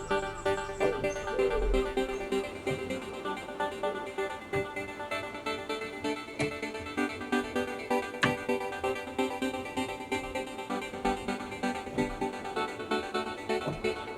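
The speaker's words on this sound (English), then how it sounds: "It's called Augmented Voices, and it sounds like this." Arturia Augmented Voices vocal choir synth preset sustaining airy, layered chords with a soft shimmer. The pads swell gently in a steady pulse at moderate loudness, with no voices speaking.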